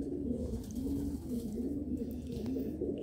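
Golden and Sailkoti breeder pigeons coo steadily and close by, a low, repeated rolling call running through the whole stretch with no talk over it.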